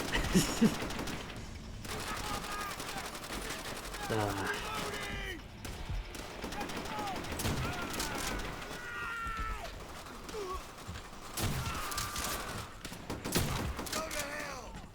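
Gunfire in the video game Call of Duty: World at War comes as scattered bursts of shots and mechanical clacks, moderately loud, mixed with game effects and someone talking throughout.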